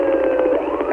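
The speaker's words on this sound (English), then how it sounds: "Controlled vehicles are yielding to lights and sirens." Police car siren sounding continuously during a pursuit of a stolen vehicle, a steady wailing tone that is loud and close, with no talk over it.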